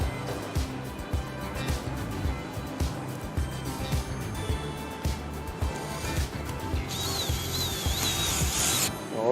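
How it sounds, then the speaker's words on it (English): A screw is driven into the replacement handle of a La-Z-Boy recliner, giving a close, repetitive ratcheting and rubbing rhythm that runs steadily throughout, with a short whine near the end. "Put the screw in and then you'll tighten it right back down."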